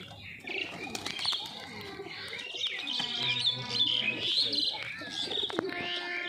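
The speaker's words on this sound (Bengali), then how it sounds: "আর এই পায়রাটা আমাদের টিংটং পায়রা।" Pigeons coo and chirp close by among a group of kept birds, with overlapping calls, some wing flaps and a voice speaking faintly underneath.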